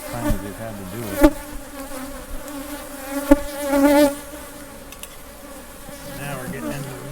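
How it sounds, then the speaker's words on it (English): Honey bees from an open hive under inspection give a steady, dense buzz close by, with a few louder swells and brief knocks as frames shift. No voices. "There's a lot of bees in here."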